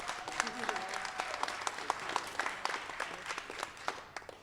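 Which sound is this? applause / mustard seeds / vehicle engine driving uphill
applause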